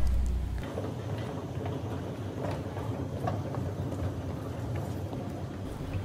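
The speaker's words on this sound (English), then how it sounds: "This one is called the Sky Train." Vancouver SkyTrain rolling along, a steady low rumble and rattle of the rail car that stays even and close throughout, with a brief louder burst at the very start.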